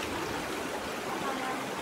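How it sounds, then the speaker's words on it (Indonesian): A clear river runs behind the speaker in rural Cianjur, a steady rushing and trickling stream close by, continuous and fairly loud, with no talk over it. "belakang saya itu persis ada sungai yang cukup bersih ya, jernih airnya"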